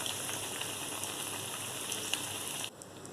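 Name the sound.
egg bonda frying in oil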